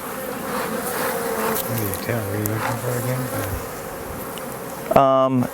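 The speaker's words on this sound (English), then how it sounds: "now they're getting angry. There's a bee in my hair." Honeybees swarming around an opened beehive during hive inspection, a dense steady buzz throughout with a low droning tone rising and falling, ending in a brief louder close burst.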